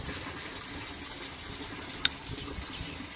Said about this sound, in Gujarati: આજે અમે આવ્યા હતા ટ્રેક્ટર લઈને પાણી ભરવા